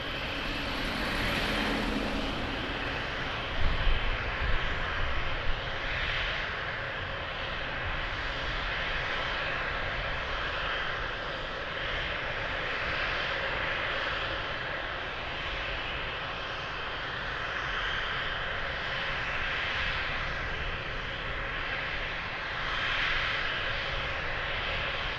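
An airliner landing on runway 02 at Lisbon Airport produces a loud, sustained engine roar heard alone over the whole stretch, with a brief bump partway through.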